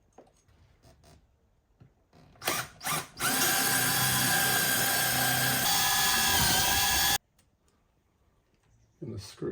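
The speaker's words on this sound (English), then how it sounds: "I'm going to screw these in." A power drill drives screws while mounting an LED light strip. A few short bursts lead into one sustained, loud, close whir lasting several seconds, with quiet stretches and faint sounds around it.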